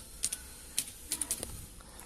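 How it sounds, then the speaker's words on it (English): Light, irregular clicks of a computer keyboard as a password is typed, a handful of close taps spread across a quiet moment with no talking. "I type my password first."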